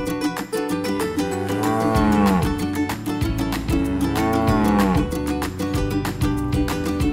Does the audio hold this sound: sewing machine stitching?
no